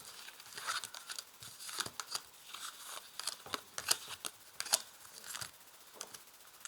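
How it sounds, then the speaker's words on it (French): Tarot cards being dealt and laid out one by one, eight in all, with crisp papery snaps, slides and crinkles at an uneven pace, close and fairly quiet with no talking. "Alors je vais placer 8 cartes."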